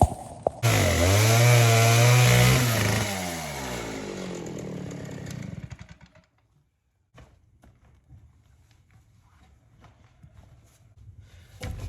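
A chainsaw roars loudly and bogs down as it cuts through rotten barn sill timber for several seconds, then falls silent, leaving faint clattering and movement.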